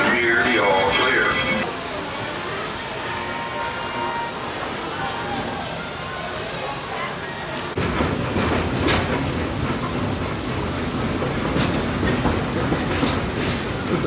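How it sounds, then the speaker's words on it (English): A theme park train at Walt Disney World's Magic Kingdom rumbles and clatters as it pulls into a station, with a crowd murmuring and brief voices over the rolling noise. "As we arrive at the station, please remain seated until the train stops"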